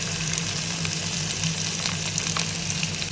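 Garlic, onion and tomato sautéing in a pan, a steady close crackling sizzle with faint stirring clicks and no talking.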